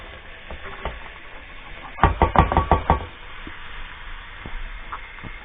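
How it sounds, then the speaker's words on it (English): Onions and garlic go into hot olive oil for a traditional Menorcan oliaigua soup: a quick cluster of loud knocks and clatter, then a steady sizzle that settles into a soft background crackle. No one speaks. "into the hot oil add your onions and your garlic"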